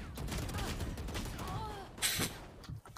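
Video game gunfire crackles in a dense burst of shots over a busy mix of game sound, with a sharper loud crack near the end.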